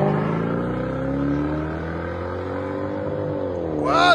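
A Lexus LS460 with factory converters and X-pipe and Dynamax race bullet mufflers accelerates, its engine note rising smoothly in pitch and swelling louder toward the end, heard nearby.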